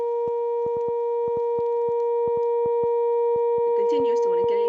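A steady electric hum from wave-type electric fish discharges drones on, punctuated by a dozen sharp, evenly scattered pops; a voice briefly enters near the end.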